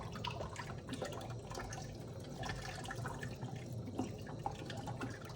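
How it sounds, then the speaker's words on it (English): Cold tap water runs steadily over potatoes in a kitchen sink, a continuous close splashing and trickling with small drips, no voices over it. "I'll just run the potatoes through cold water so that they stop"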